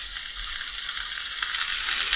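Potatoes with turmeric and powdered garlic sizzle steadily in a hot frying pan, a dense close hiss of frying that holds even and unbroken throughout, with no voices.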